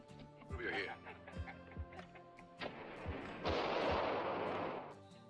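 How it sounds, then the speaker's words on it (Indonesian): A western film scene with rifle gunfire, several sharp reports punctuating music and voices, then a louder burst of noise near the end, with narration over it. "Singkat cerita, akhirnya Joe sampai, yang tiba-tiba dia ditembak oleh Ramon menggunakan senapannya."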